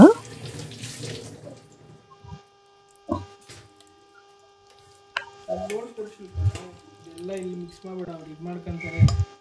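Tap water running while mushrooms are washed with salt in a kitchen sink, a soft intermittent splashing and trickle heard under someone speaking, with a faint steady hum.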